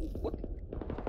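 Rapid gunshots in a shooter video game, a quick volley of sharp cracks under a player's talking, fairly quiet overall with the shots clustered in the second half.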